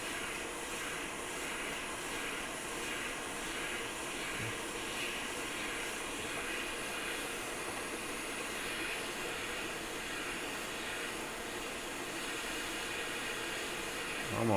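A hot air rework tool blows heat across a failed gaming laptop GPU during repair, a steady, quiet airy roar that holds unchanged throughout with no talk over it.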